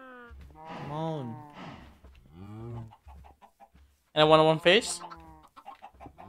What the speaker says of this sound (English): Hey chicken, do you want face?